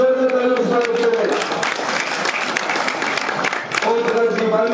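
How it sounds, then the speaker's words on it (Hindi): Loud applause from a crowd at a village program, a dense rush of clapping in the middle, with a voice audible before and after it. "इन तमाम लोगों का जोरदार तालियों से स्वागत करें"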